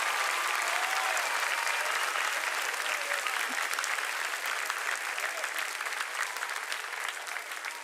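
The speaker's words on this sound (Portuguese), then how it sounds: "Pode aplaudir Jesus." Church congregation applauding Jesus during worship, a dense, even wash of many hands clapping together that carries on steadily throughout with no talk over it.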